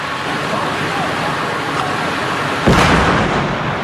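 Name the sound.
police flash grenade explosion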